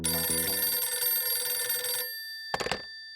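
A telephone bell rings loudly and continuously for about two seconds, then stops and gives one short final burst of ringing.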